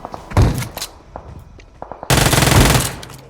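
Gunfire knocking down an enemy in a video game: a few short loud bursts and scattered shots, then a sustained rapid burst of automatic fire close up.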